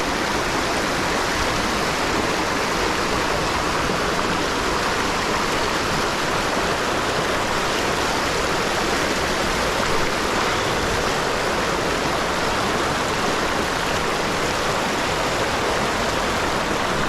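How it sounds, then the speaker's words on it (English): A waterfall in Arkansas pours down into a pool, a loud, steady, unbroken rush of water close by with no voices over it. "Waterfall comes right down into there."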